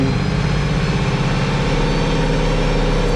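An IH 1486 tractor strains uphill while pulling a buried chisel plow through a field. Its heavy diesel engine gives a loud, steady, low-pitched drone throughout, with no other sounds.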